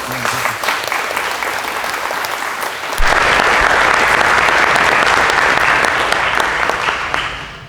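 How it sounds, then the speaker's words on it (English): Sustained audience applause at an evening lupus awareness event hosted by a local patient organization, steady and dense throughout and swelling louder partway through. "So a round of applause."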